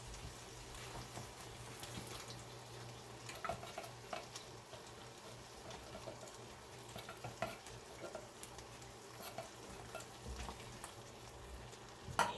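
Liquid drains from a 14.5-ounce can of diced tomatoes in a kitchen, a faint, steady trickle and patter with small splashes, heard alone and quiet throughout.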